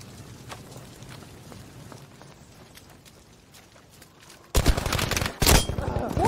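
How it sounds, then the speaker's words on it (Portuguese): Gunfire in the video game Battlefield V, Firestorm mode: faint, distant shots crackle sporadically, then a loud, close burst of rapid fire erupts near the end, followed by another sharp volley. "O maluco dando tiro lá"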